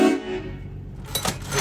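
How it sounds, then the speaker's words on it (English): A loud train horn blown to get a worker's attention, a short blast at the start and a second harsh blast near the end, with no talking. "It's my train horn."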